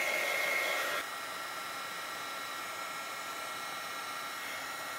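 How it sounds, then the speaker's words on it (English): Handheld heat tool warming embossing powder on stamped paper, a steady close hair-dryer-like blowing hiss that dips slightly after the first second and continues evenly. "So now I'm using my heat tool."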